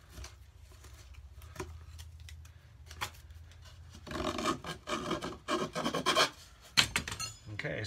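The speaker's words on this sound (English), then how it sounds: "Round file again." A round file rasps against the thin wood of a cigar box during cigar box guitar building, steady scraping strokes that grow louder and choppier partway through, close up with no talk.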